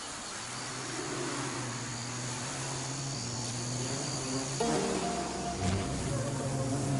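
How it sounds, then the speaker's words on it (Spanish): A swarm of angry killer bees attacks a man in a protective suit, filling the air with a loud, dense, continuous buzzing drone that holds steady and swells slightly toward the end. "Katzberger se ve envuelto por un enjambre de abejas coléricas picándole"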